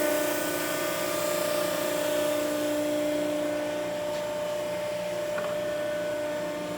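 A Neff 42-ton hydraulic press wired for 460 volts runs in auto mode, giving a steady loud motor and pump hum with sustained tonal whine throughout and a faint clunk partway through.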